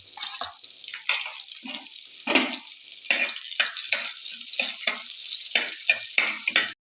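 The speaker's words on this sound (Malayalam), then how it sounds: "ഇനി അടുത്തത് നമ്മളെ അരിഞ്ഞു വെച്ച വെളുത്തുള്ളി ഇഞ്ചി പച്ചമുളക് ഇതിലോട്ട് കൊടുക്കുക എല്ലാം കൂടെ വയറ്റെടുക്കാം" Chopped garlic, ginger and green chilli sauté in a pan for a Kerala-style lunch, crackling and spattering in irregular bursts with short stirring scrapes, close and moderately loud with silent gaps between the pops.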